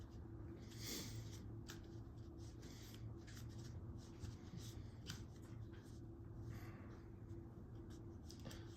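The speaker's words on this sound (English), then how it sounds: "So as I'm shuffling these cards, taking something from the middle, taking a stack, putting it in or out" A deck of tarot cards being shuffled by hand, with stacks pulled from the middle and slid back in, giving a steady run of soft riffling and rubbing noises at close range under a faint background hum.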